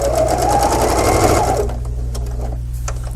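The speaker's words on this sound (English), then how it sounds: "lay this back down, sew straight to that slit." A sewing machine runs steadily, sewing straight along fabric up to a slit cut with a Slit 'N Sew clamshell template, close and continuous, its motor pitch shifting slightly partway through.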